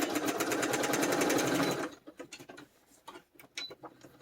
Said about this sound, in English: I'm stitching over here to the right. Just using a straight stitch again.